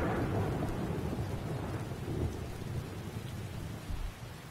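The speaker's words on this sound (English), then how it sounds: "That thunder is really loud." Thunder rumbles heavily over steady rainfall in Skyrim, a continuous loud storm with no voices.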